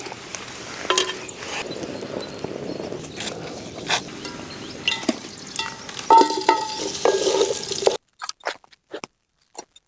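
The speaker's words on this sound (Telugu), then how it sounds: "ఈ కట్ చేసుకొని మనం ఆయిల్లో ఫ్రై చేసుకోవాలి." Onions fry in oil for a village-style chicken curry, a crackling sizzle with repeated spatula scrapes and knocks that cuts off abruptly near the end, leaving only a few sparse clicks.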